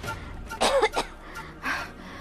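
A woman coughs in several rough bursts, faint and close, in a quiet indoor room at night.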